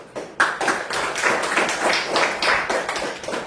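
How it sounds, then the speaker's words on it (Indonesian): A class of schoolchildren claps together in quick, rhythmic unison for a few seconds, filling a classroom with dense, close, steady applause. "Tepuk tangan."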